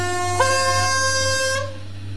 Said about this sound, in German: Und das ist jetzt nochmal das Signalhorn.